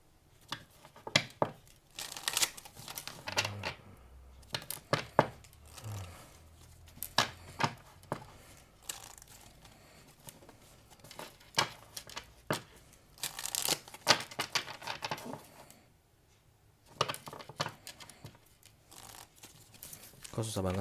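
A deck of oracle cards being shuffled in repeated crisp bursts of riffling and flicking, close and fairly loud, with short pauses between handfuls, no talk over it.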